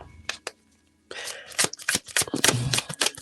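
A regular deck of playing cards is shuffled up close: a couple of quick flicks, a pause, then a busy riffling flutter with crisp snaps and ruffles, loud and alone without speech.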